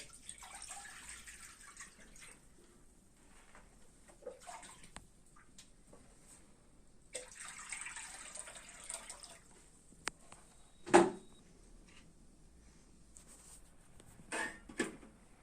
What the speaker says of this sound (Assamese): পানী দিলোঁ আপোনাৰ এতিয়া